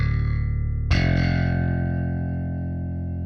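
A sustained bass note with gritty distortion, then a fresh, harsher distorted note hits and slowly rings out.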